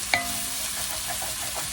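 Vegetables sizzle loudly and steadily in a pan for a soup, with a spoon or spatula scraping the bottom in a few short strokes beneath the constant hiss.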